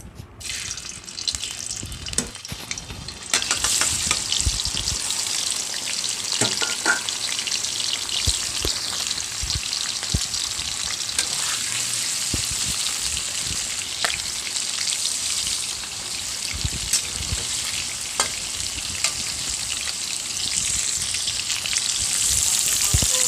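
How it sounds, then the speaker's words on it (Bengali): Paneer pieces fry in hot oil in a wok, giving a loud, continuous crackling sizzle up close. It runs steadily for over twenty seconds after a quieter, uneven start, with occasional stirring clicks. "পনিরগুলো লাল লাল ভাজা হয়ে গেছে"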